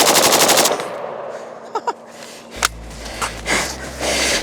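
An FB Radom Beryl rifle fires a rapid automatic burst, loud and close, then falls to near silence broken by a few sharp clicks and a couple of single reports.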